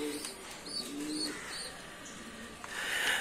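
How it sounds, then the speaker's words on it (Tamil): Pigeons coo softly in a loft of prize-winning racing pigeons, a few low murmuring calls at mid distance over a steady background hiss with faint chirps. "அந்த புறாவை உங்களுக்கு நான் இப்போ காட்டுறேன்"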